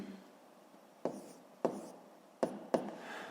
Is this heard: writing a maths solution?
yes